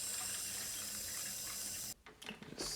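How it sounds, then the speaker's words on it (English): Water running into the tank of a DeLonghi Magnifica coffee machine: a steady soft stream that fills for about two seconds, then stops and gives way to brief splashing and handling noises. "Let's put some water in the tank."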